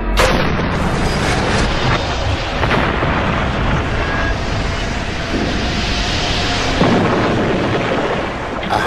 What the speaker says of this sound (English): the team deliberately rupture the model